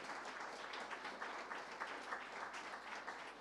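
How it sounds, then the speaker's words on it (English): Steady applause from the crowd at a film festival awards ceremony, many hands clapping evenly throughout, heard faintly and from a distance. "another big round of applause to the hardest working jury in the film industry"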